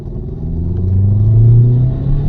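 A Hyundai Sonata engine revs up, a deep growling rumble that swells louder and rises in pitch, then eases slightly, close by with no talking.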